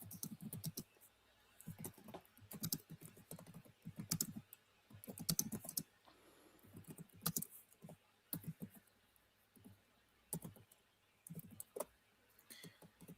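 Typing on a computer keyboard, with quick bursts of close, crisp key clicks separated by short pauses, continuing steadily throughout and heard alone with no talking.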